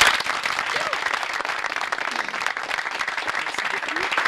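A crowd applauds at a dance group performance in Kinshasa. The clapping is dense and steady and fills the whole stretch without a break.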